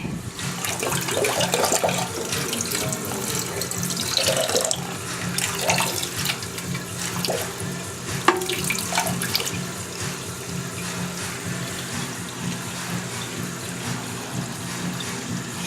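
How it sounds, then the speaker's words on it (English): Toilet tank refilling with water after a new wax ring has been installed, a steady rushing hiss with gurgling and splashing throughout, close and fairly quiet, with a few small clunks partway through. "filling up with water"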